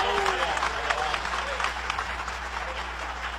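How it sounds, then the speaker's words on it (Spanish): A church congregation claps in praise, dense sustained applause filling the room, loud and steady, with voices calling out underneath. "Dale ese aplauso de alabanza al Señor."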